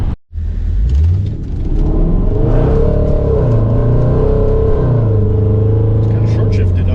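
A Jaguar F-Pace SVR in eco mode pulls away on a snowy road, its engine rumbling and rising through short-shifted gears, loud and close inside the cabin.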